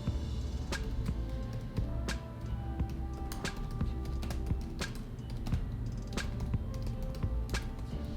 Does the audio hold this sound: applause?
no